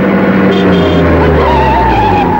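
A car in city traffic skids with a squeal of tyres, a loud, sustained screech with engine noise running through it for a couple of seconds, close by.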